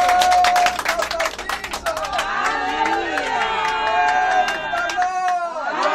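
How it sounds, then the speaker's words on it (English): A church congregation claps in quick, sharp rhythmic bursts at the start, then cheering and excited voices carry over the fading claps. "Can we clap our hands for Jesus?"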